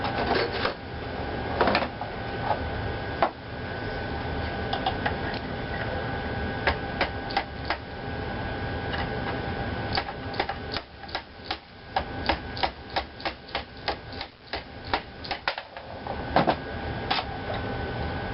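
An air rifle being disassembled, with its locking pin worked out while the spring sits under a spring compressor: a run of sharp, close metallic clicks and ticks of uneven rhythm over a steady low hum, with no talking.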